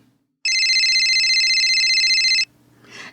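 A phone rings with one steady, loud electronic ringtone burst lasting about two seconds, followed by a faint rustle.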